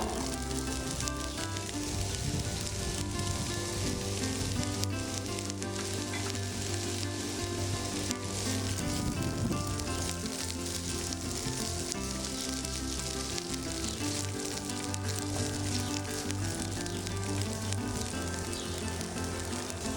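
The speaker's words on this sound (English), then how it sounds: "once your oil is hot, add in your green bell peppers." Green bell peppers sizzle steadily in hot olive oil in a skillet, a loud, continuous crackling fry that stays close and dense throughout, with occasional stirring scrapes.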